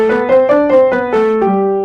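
Bright, ringing piano notes played with no felt between hammers and strings, one after another in a slow melodic line, each with a sharp attack and sustained harmonic tone, close and clear.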